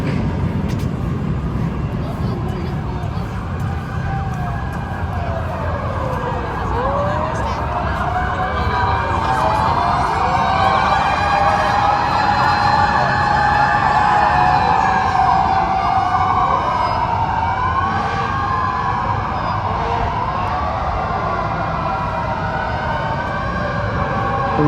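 Several fire truck sirens wail and overlap continuously, rising and falling as they approach a fire near the Pasig River Esplanade, with a steady rumble of traffic and crowd noise underneath.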